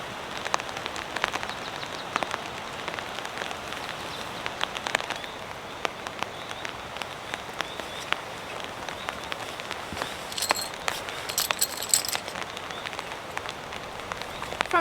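Rain falling on a tent at a camp in snowy weather, a steady dense patter of drops on fabric with occasional louder taps, close and continuous, alone without talk.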